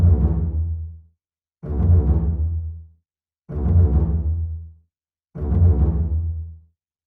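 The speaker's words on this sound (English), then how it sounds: "This is the sound of the double bass." A double bass plays four deep, resonant sustained notes from a piece of music, each one ringing out and decaying before a short silent gap.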